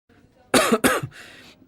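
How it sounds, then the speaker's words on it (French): Two sharp, close coughs come in quick succession, followed by a softer trailing breath, from a person with a cold in a doctor's consultation. "j'ai le nez qui coule et en plus je tousse beaucoup, surtout la nuit"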